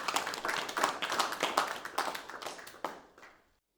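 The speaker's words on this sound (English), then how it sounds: "Give them a big round of applause, and thank you very much indeed." Audience applause after a music performance, a room full of hands clapping with distinct individual claps audible, holding steady then thinning out and fading to silence near the end.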